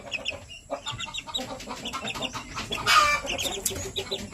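Japanese Shamo chickens and chicks in a coop cluck and peep close by, with irregular soft clucks, high chick cheeps and one louder squawk partway through.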